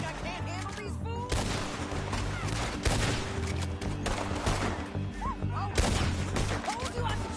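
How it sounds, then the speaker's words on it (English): Rapid gunfire in the Western video game Red Dead Redemption 2, a dense fusillade of overlapping shots that keeps up steadily and loudly across the whole stretch. "told you I could shoot a gun"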